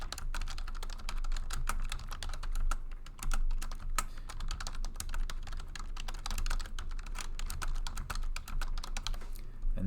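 Rapid typing on a computer keyboard, a dense stream of close, crisp key clicks at an uneven rhythm, quiet and without speech.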